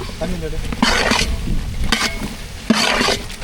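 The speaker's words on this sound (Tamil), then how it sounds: "கத்திரிக்காய் நல்லா மசாலா கூட கலந்து விட்டுக்கலாம்" Eggplant is stirred into chicken biryani masala in a pot, with repeated scraping swishes of a ladle and a steady sizzle, close and loud, and a voice talking faintly in the background.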